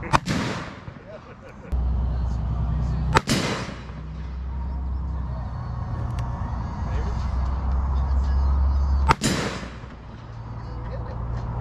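Gunshots aimed at a metal target during a Fourth of July outing: three loud, sharp cracks, widely spaced and close by, over a steady low background rumble.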